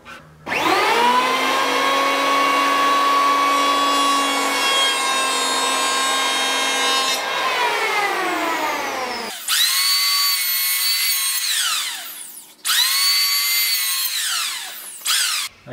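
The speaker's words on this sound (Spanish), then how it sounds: "Vamos con el cepillo eléctrico." An electric planer whines loudly as it shaves wood in a long pass, then two shorter bursts follow, each winding down between cuts.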